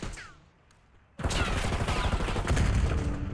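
Gunfire bursts out abruptly in a competitive Valorant-style tactical shooter match, a loud dense volley of shots fired through a wall, following a quiet stretch of faint game ambience.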